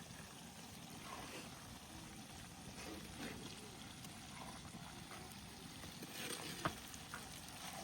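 Black masala spice mix dry-roasting in a pan over a wood fire, a steady low crackle and scrape of stirring running throughout, close and continuous with a brief sharper clack near the end.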